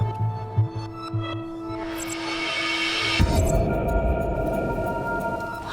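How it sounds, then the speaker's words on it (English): Low rumbling drone in the video game The Complex, a steady throbbing hum that swells and thickens after a few seconds, layered with tonal game ambience. "What's the rumbling, though?"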